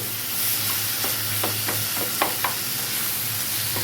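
A mashed tomato and onion mixture for baingan bharta cooking in a pan, a soft steady sizzle with irregular scraping and tapping strokes as it is stirred, close by.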